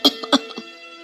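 Short cough from someone with a cold: two sharp hacking bursts followed by a few weaker, throaty coughs that fade out within a second, alone and close.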